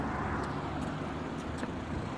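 Road traffic hums nearby as cars roll past, a continuous engine and tire rumble with no talking.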